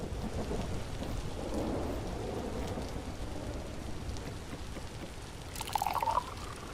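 Heavy thunderstorm in the survival game Vintage Story: steady rain pours throughout while deep rolling thunder rumbles, ending in a sharp bright crack near the finish, with no voices.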